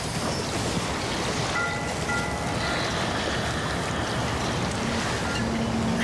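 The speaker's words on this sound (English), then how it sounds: "I love the sound of the water on the docks." Water lapping against wooden docks, a steady soft wash of small waves with faint ambient noise, continuous and fairly quiet throughout.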